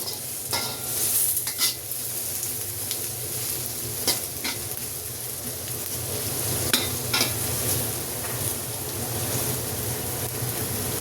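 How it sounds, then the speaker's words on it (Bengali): Onions frying in oil in a pan on high heat, a strong steady sizzle with repeated scraping and clinking as a utensil stirs them, close and loud. "পেঁয়াজটা একটু ভাজা ভাজা হোক"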